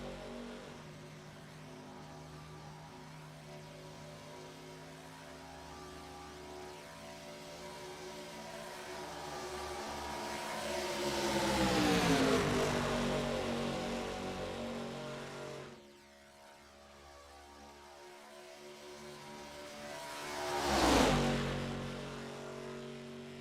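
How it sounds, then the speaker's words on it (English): Race cars on a track sweep past one after another, engines rising and falling as each passes, with a louder close pass toward the end and no talk. "More cars coming in."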